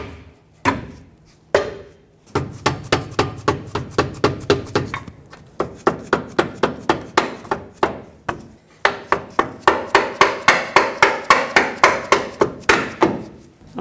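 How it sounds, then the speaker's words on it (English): A rubber mallet strikes a truck's lower control arm, seating its forward bushing on a 2003-2012 Chevrolet Colorado: a long run of sharp, close taps in steady rhythm, with brief pauses between bursts and no talking. "If you need to tap it in, use a rubber mallet."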